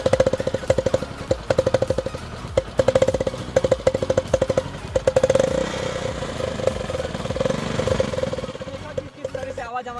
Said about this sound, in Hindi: किस तरह से आवाज़ हमारे बाइक की पूरी तरह से चेंज हो चुकी थी। जो केटीएम और जो ड्यू आती है, जो महंगी गाड़ियाँ, उसी तरह से कुछ आवाज़ आ रही थी सस्ती गाड़ी में।